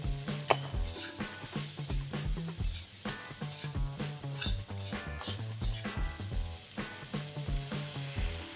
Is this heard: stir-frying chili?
yes